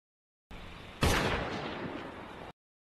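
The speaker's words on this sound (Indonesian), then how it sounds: "Tak lama kemudian terdengar suara tembakan." One loud gunshot cracks out over a hissing background, and a noisy rumble lingers briefly before cutting off abruptly.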